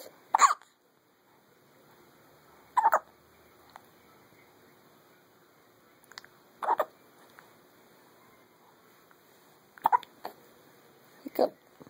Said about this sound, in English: Hiccup.